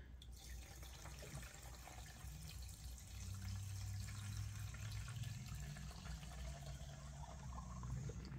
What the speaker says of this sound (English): Put gas in it till it comes out the carburetor